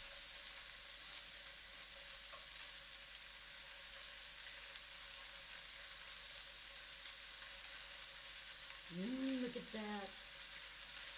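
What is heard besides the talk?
salmon cubes frying in a pan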